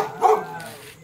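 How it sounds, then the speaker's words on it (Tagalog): A dog lets out a single short, close bark or yip, loud and alone, with a faint tonal tail after it. "Yung aso."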